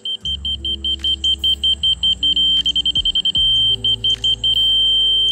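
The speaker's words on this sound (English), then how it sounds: "see now that it's facing the laser, you can hear it beeping" A laser receiver on a grade rod emits a rapid series of high beeps that speeds into quick pulses, briefly holds a steady tone, then returns to slower beeping.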